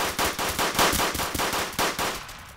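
Rapid automatic gunfire in a survival video game, with several close, loud bursts of shots in quick rhythm, and no talking over it.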